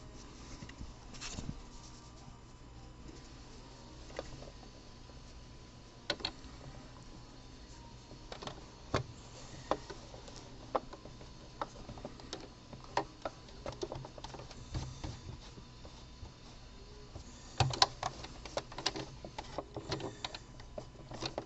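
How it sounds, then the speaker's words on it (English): A home sewing machine top stitches a honeycomb stitch on a boxer brief gusset panel, giving a faint, steady stream of small ticks and clicks with occasional louder knocks, close and without talking. "Now I'm going to top stitch with the honeycomb stitch."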